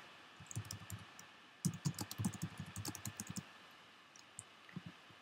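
Typing on a computer keyboard while filling in a web form, a faint run of quick key clicks in bursts with short pauses, heard alone in a quiet room.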